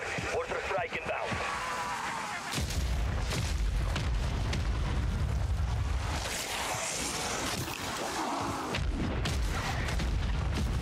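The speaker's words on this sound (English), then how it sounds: "Mortar strike is inbound." Mortar strike explosions boom in the video game Call of Duty MW3 Zombies. Heavy rumbling blasts and crackling debris roll on continuously over several seconds at moderate loudness, and game voice lines speak over the din.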